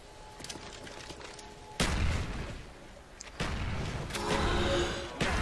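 Explosions in the Call of Duty Black Ops zombies map Der Riese land in several heavy, booming bursts, loud and close over ongoing game noise.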